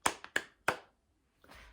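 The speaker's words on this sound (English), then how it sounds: "Can you clap your hands?" Three sharp hand claps in quick succession, close and clear, followed after a short pause by a faint softer rustle.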